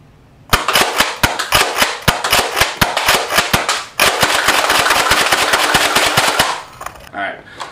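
A Nerf blaster being slam fired, a loud, close stream of rapid snapping shots in two bursts with a brief break, ending with a few softer mechanical clicks.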